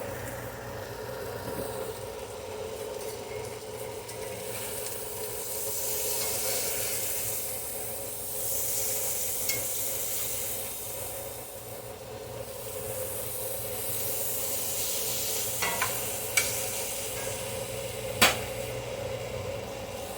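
Fork-tender potatoes sizzle in a pan, a steady close hiss lasting throughout, broken by a few faint scraping and tapping sounds from stirring, with no talking.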